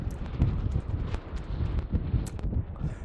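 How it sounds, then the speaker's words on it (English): Strong wind after a storm buffets the microphone in loud, uneven gusts, with occasional rattling and knocking sounds mixed into the rumble. "It is super windy today."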